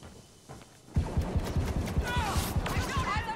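Rapid blaster fire in Star Wars Battlefront 2, a quick rhythmic burst of repeated shots starting after a quiet moment, close and steady, with higher whining effects layered over it.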